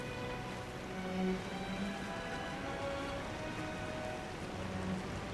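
Steady rain falls outside as a continuous, even hiss of drops on surfaces, at a moderate level with no talking.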